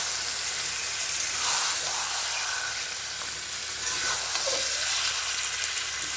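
Chicken coated in turmeric, chilli powder and ginger paste sizzles steadily in a hot pan as it is stirred, a loud, continuous frying hiss with soft scraping, no voices.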